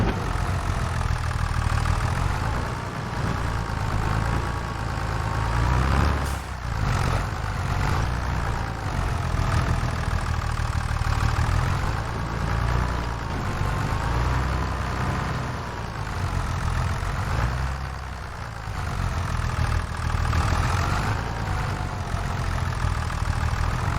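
A tractor engine idles in Farming Simulator 25, a steady low mechanical rumble with a faintly wavering pitch that carries on continuously at close range, with no voices.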